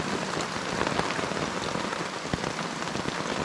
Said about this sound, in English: rain is diagonal, but there's also this almost like a mist from the rain that's just everywhere, moving sideways.